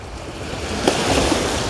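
Sea waves wash ashore at a beach, a steady broadband surf wash with a swell building partway through, close and fairly loud, with some wind noise and no talking.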